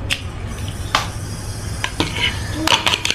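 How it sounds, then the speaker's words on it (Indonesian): A single egg is beaten in a bowl, quick irregular clinks and taps of a utensil against the dish over a low background hum, close and moderately loud. "telurnya kita akan kocok ya"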